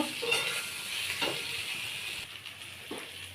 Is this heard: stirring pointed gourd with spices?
yes